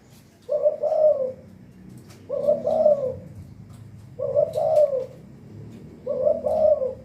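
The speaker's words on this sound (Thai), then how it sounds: "นี่ครับจมุดดำนะครับ" A black-marked spotted dove coos in four clear, evenly spaced phrases, each a loud, close, mellow burst about a second long separated by quiet pauses.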